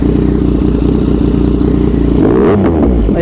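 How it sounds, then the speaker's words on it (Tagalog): A 2020 Yamaha MT-09 motorcycle fitted with an Akrapovic exhaust idles with a steady, loud engine rumble, then gives a short rev burst near the end, heard up close with no talking. "patatakbuhin natin to para makita natin kung ano ba yung tunog dito ni MT-09"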